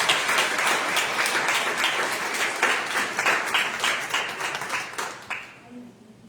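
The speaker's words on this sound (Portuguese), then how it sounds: "Você pode aplaudir o Senhor?" A church congregation applauds steadily for several seconds, a dense patter of many hands clapping together before fading out at the end.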